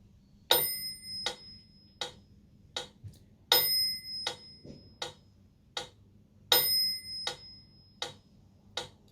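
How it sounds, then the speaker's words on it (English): Metronome set to 40 beats per minute during a beginner piano exercise, sharp isolated clicks spaced evenly with accented bright dings every few beats, over a faint low hum. "We are starting the metronome from 40."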